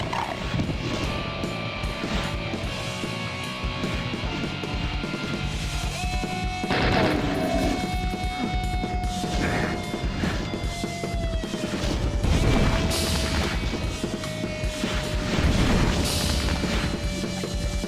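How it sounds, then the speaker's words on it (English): Weapon fire from a custom grabber gun added to Doom by a mod, with heavy crashes and bursts of shots over dense game noise and music-like tones, no talking. "This mod introduces a new weapon to Doom that I like to call the oh shit grabber gun"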